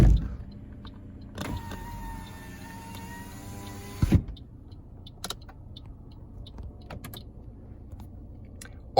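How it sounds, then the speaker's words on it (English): Inside a 2018 Toyota Corolla SE, a power window motor hums for about three seconds and stops with a thunk, followed by faint clicks of switches in a quiet cabin. "You do have your power windows, power locks, lock window switch."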